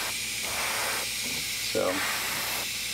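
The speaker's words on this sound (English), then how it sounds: "I have a hard time getting paint where I want with the airbrush without affecting other areas too much" Close airbrush hiss while painting a quarter-scale custom Spiderman figure comes in a few short on-off spray bursts, with a brief clatter in the middle.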